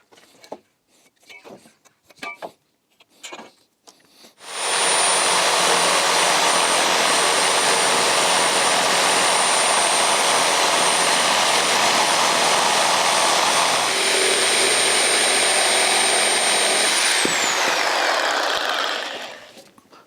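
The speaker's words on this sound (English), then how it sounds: "We need to cut it off, so this is too long, so we'll cut that part off." An old wooden beam from a house built in 1616 is cut to length with a power saw, giving a loud, steady roar for about twelve seconds before it winds down. Faint knocks come before it.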